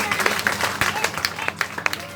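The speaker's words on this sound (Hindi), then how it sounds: "प्लीज उनके जोरदार तालियों से स्वागत कीजिए।" Audience applause welcoming a speaker onto the stage at a school Independence Day event, a dense patter of many hands with sharper individual claps standing out throughout.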